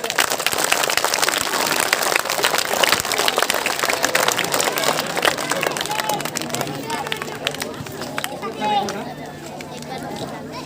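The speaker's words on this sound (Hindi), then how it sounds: "जोरदार तालियां हो जाए।" Loud, dense applause fills a school farewell ceremony at ZPCP School Ambhai in Sillod, Aurangabad, lasting about ten seconds before easing slightly as background voices carry on.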